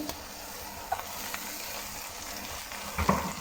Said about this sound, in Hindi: प्याज का कच्चापन खत्म होने तक हम इसे भूनेंगे।